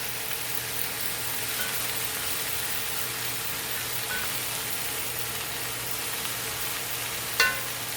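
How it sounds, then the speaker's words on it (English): Chopped onion and carrots sauté in a pan for Portuguese chicken and rice, a steady, soft sizzle and hiss running throughout, with one brief utensil tick near the end and no talking. "So this is going to keep sauteing maybe, I don't know, a couple minutes."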